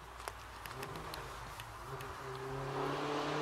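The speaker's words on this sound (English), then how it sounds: "go away, you blinking car boy racer" A car, driven by a boy racer, passes outside near a priory, its engine hum rising and swelling toward the end, with faint clicks and outdoor ambience.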